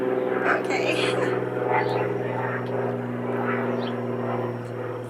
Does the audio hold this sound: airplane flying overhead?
yes